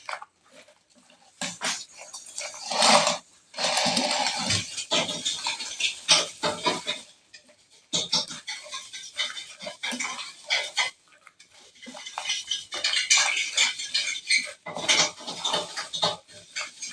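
A spoon or utensil clatters against a bowl while Russian salad ingredients are mixed together, producing irregular close scraping and clinking that rises and falls in bursts with brief pauses.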